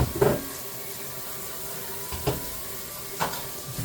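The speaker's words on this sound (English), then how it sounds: "I'm just going to fill it up with water." Water runs from a tap into a container while cornstarch-thickened liquid is prepared in a home kitchen, a steady close splashing flow broken by a few brief clunks and knocks.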